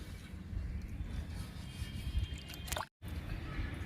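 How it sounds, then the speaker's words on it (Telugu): A liquid plant fertilizer trickles and splashes into 8 litres of water in a 10-litre bucket with a soft gurgle, steady and close, ending in a brief cut to silence. "ఇప్పుడు ఈ లిక్విడ్ని వాటర్లో డైల్యూట్ చేసుకుందాము."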